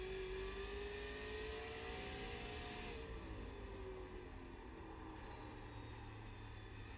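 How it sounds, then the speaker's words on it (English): Race car tires squeal and scrub at New Smyrna Speedway during a Sunday night Supers race, a steady engine roar underneath with a long tonal whine that glides and fades as the car passes. "You can hear those tires burning the rubber off that thing."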